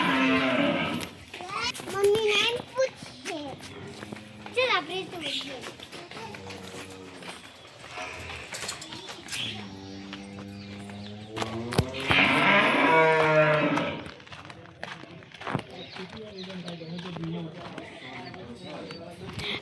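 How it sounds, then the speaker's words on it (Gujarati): Buffaloes on a village farm low repeatedly with long, drawn-out moos, some near and loud, while someone talks throughout and children's voices and tapping sounds mix in. "આટલી બધી ભેંસો અમારી"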